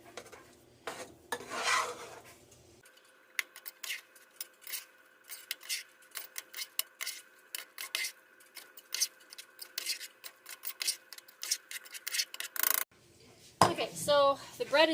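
Baking ingredients with salt are stirred together in a bowl, giving a series of scraping, clinking strokes of utensil against the bowl at an uneven rhythm, close and fairly soft, with brief talk at the start and end.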